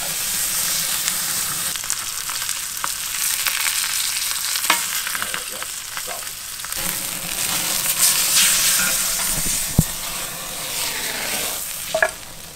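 A ribeye steak sears in bacon fat and butter, giving a constant loud sizzle and spitting fry with occasional scrapes and clicks of a utensil moving the meat, with no voices.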